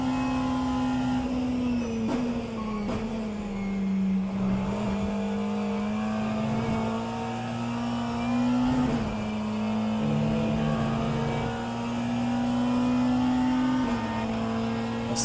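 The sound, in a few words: McLaren race car overtaking in a video game racing simulation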